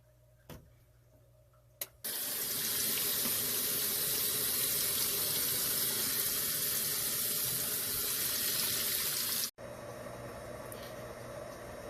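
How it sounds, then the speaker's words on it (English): Water gushes from a tap into a sink in a home, run from a solar generator setup; a loud, steady rush starts abruptly after a couple of clicks and stops sharply near the end, leaving low background hum. "now we're dumping the water"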